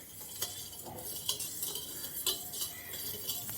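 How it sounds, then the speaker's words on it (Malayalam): A spoon stirs sugar into blue butterfly-pea tea in a cup, sharp metallic clinks repeating at an irregular rhythm against a soft swirling hiss, close and fairly quiet. "നമുക്കിനി കലക്കി കൊടുക്കാം ഷുഗർ നല്ല ലഭിക്കാൻ വേണ്ടി"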